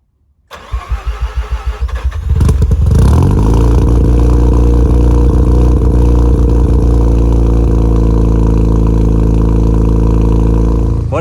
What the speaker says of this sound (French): je resserre le pot et je vous fais écouter le cold start